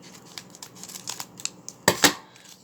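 Scissors snip through Pokemon Sun and Moon Cosmic Eclipse Elite Trainer Box packaging, a run of light crinkly cuts ending in two louder, sharper snips, close up and with no talking.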